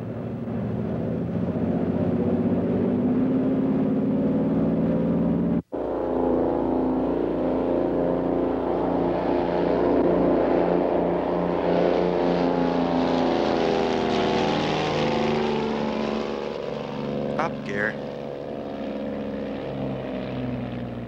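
A Twin Bonanza twin-engine aircraft takes off from runway 25 left at Los Angeles, its loud, steady propeller and engine drone filling the scene close by, broken by one brief cut, with no talk.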